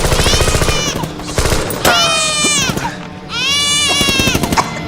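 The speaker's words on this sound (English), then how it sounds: "They all hear the baby crying." A baby wails loudly in a dramatic film scene, several long rising cries with breaths between, set against heavy rapid rumbling and clattering like gunfire.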